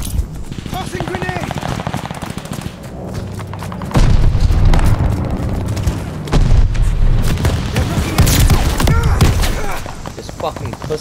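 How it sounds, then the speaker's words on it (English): Grenade blast amid heavy gunfire on the Berlin map in Call of Duty: Vanguard multiplayer on PC, with loud booms and rapid machine-gun bursts throughout and a player talking over the action. "Tossing grenade."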